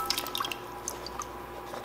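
Water drains off boiled sunchokes, heard as faint, scattered drips and small splashes with no talk.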